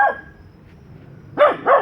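Dogs barking at each other in a neighborhood, a faint distant bark followed by two loud close barks in quick succession.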